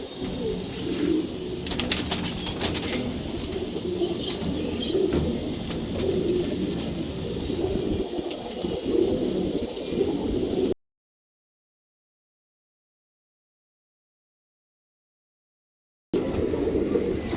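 Old-bloodline pigeons, round-bodied and short-legged, give soft cooing calls with a few wing flaps, close by and steady for about ten seconds, then the sound cuts to silence before resuming briefly.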